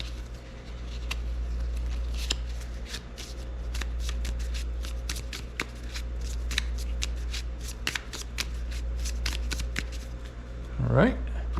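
A board game encounter card deck is shuffled in a long run of rapid, close card riffles and taps over a steady low hum.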